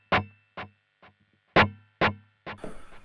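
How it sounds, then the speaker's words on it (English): Electric guitar plucks through an HX Effects unit, five or six separate distorted notes with short decaying tails and a faint repeating simple-delay echo after each, played alone. "and then the simple delay on"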